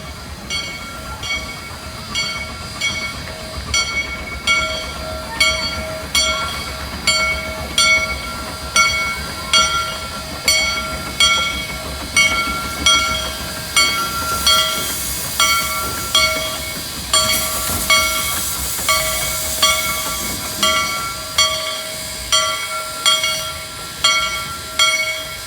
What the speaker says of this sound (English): the Shay pulls back into the station after completing its round trip